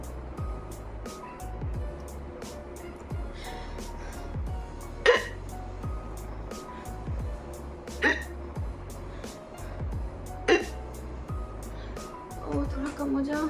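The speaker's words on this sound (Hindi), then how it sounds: "मुझे हिचकी बहुत आ रही है।" A person hiccups several times, with sharp, short catches spaced a few seconds apart over a quiet background hum and faint murmuring.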